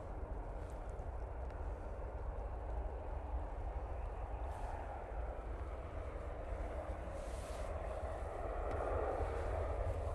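An airliner departing Manchester Airport into the clouds, heard as a distant, steady broadband jet roar that holds and swells slightly toward the end.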